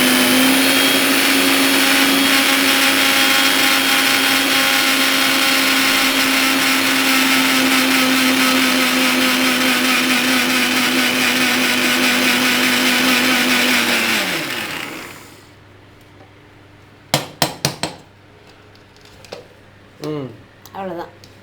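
A kitchen mixer grinder grinds sugar, a loud steady whirring roar that runs for about fourteen seconds before winding down, followed by clattering as the jar is handled and brief talking.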